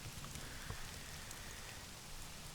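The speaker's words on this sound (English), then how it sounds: "it's still raining outside" Rain falling in the survival video game Scum, a steady hiss of drops pattering on surfaces, even and unbroken for the whole stretch, with no voices.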